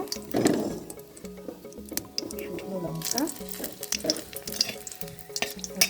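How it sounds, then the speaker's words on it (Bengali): Cumin seeds tempered in hot oil over a low gas flame, for aloo dum, crackle and sizzle in a busy spatter with stirring, partly under a voice and a steady tonal background. "এবার ফোড়ন দিয়ে দেব জিরে দিলাম"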